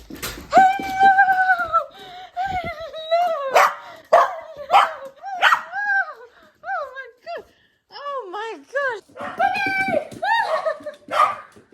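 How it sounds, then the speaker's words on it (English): Puppies greeting their owner as they come home, barking, yipping and whining excitedly in a rapid run of high, rising and falling calls close by for the whole stretch. "let's go see the puppies, because they're always the cutest when they greet me"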